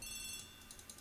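Telephone ringing in The ABC Murders video game, a faint, brief electronic ring with repeating pulses against a quiet background.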